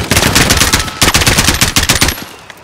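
Rapid automatic gunfire in the Call of Duty: Modern Warfare video game, loud, dense bursts of close shots with brief pauses, fading at the end, with no voices.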